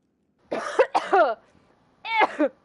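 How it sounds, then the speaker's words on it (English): A few close, harsh coughs in two quick bursts, separated by a short pause. "Sorry, I needed the cough."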